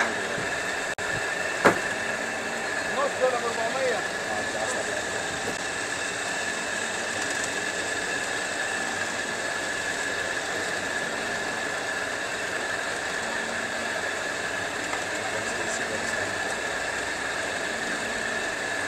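A kuboos flatbread-making machine in a Kuwait bakery runs with a steady mechanical drone and whine, loud and constant with a couple of brief clanks near the start, no talking.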